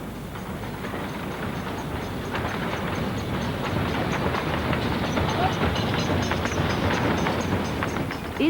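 A narrow-gauge steam railway train near Langshan serving the forestry industry rolls steadily past, a continuous rumble with repeated clickety-clack of wagons over rail joints, fairly close and building slightly in loudness.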